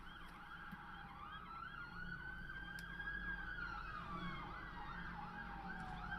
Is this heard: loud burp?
no